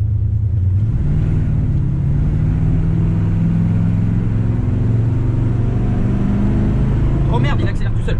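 A 1970 Chevrolet C10 V8 pickup engine accelerating on its own from a stuck pedal, a loud, close, rising rumbling roar sustained throughout, with people speaking over it.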